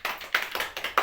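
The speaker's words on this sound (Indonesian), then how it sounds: "Tepuk tangan." A few people in a classroom clap in a short burst, sparse and uneven with distinct sharp claps, fairly quiet and alone.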